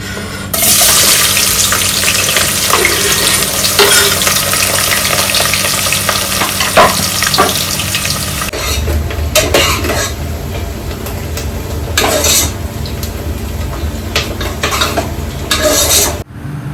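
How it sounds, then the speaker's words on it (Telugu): Onions sizzle and crackle steadily in hot oil while a spoon stirs through them, with sharper scraping bursts in the second half and a loud, continuous frying hiss throughout. "ఆనియన్స్ అయితే ఫ్రై చేసుకొని పక్కకు తీసుకోవాలి"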